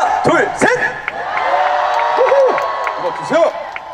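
Cheers and whoops rise from a crowd at the Uiryeong Rich Rich Festival, overlapping with a performer's amplified voice, loud and lively throughout.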